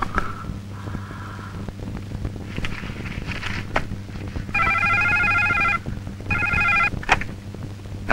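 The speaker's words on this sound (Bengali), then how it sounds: "সুবর্ণা এলে একটা ফলস ফোন করবি।" A telephone rings in two bursts of electronic trilling in the second half, after quieter background noise and faint movement, close and clear with no speech.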